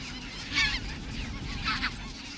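Cranes call from a snow-covered, ploughed rice field in bitter cold, giving two bursts of loud, trumpeting calls over a low wind-like rumble.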